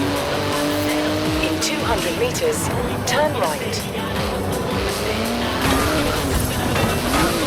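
A street-legal racing car in the video game Forza Horizon 4 drives hard with a roaring engine, shifting pitch and squealing, skidding tires, loud throughout, while a navigation voice speaks over it.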